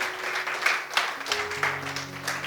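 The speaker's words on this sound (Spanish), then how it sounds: "Ese fuerte aplauso al Señor Jesús." A church congregation applauding during a sermon, brisk clapping rising and falling in pulses, with sustained tones of music beneath.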